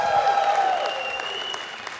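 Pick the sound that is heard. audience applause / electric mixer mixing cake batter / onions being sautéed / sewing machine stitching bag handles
audience applause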